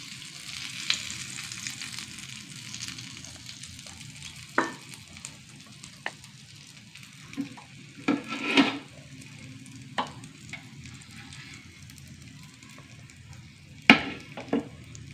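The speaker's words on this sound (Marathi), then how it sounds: "आता हे बाकीचे फिशचे तुकडे आता मी तेलामध्ये चांगले तळून घेणार आहे" Pieces of halwa fish fry in hot oil in a pan, giving a steady close sizzle with a few sharp utensil clinks and scrapes scattered throughout.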